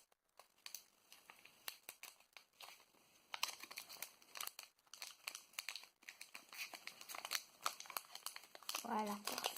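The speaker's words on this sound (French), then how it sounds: "J'espère bien l'ouvrir ce booster" Crinkling and tearing of a Pokémon Sun and Moon booster pack's foil wrapper, close and fairly quiet, in a steady run of rustling bursts that grows more intense toward the end.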